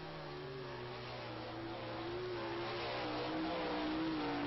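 A dirt track race car roars around Knoxville Raceway, a steady, slightly distant engine drone with wavering pitch that swells gently louder toward the end.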